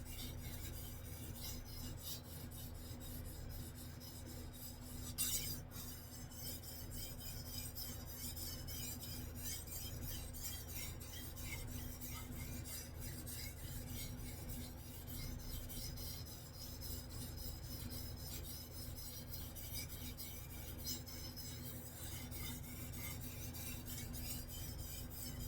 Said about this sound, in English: this gentleman wanted this knife hand sharpened on stones